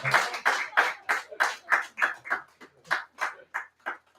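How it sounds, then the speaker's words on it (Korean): A church congregation claps together in welcome during a baptism and confirmation service, a steady, evenly spaced series of about fourteen distinct claps in unison, moderately loud with no talking. "자, 이제 박수로 한 환영해 주시고"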